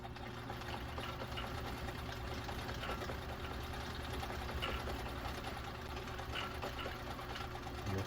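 A Viking Husqvarna 2000 sewing machine runs steadily and fairly quietly for the whole stretch, with no voices.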